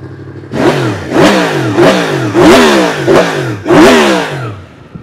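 A 2023 Yamaha MT-10 SP motorcycle with Öhlins suspension is revved nearby in five loud, rising blips. Each burst snarls up and falls back to a rumbling idle, with no voices over it.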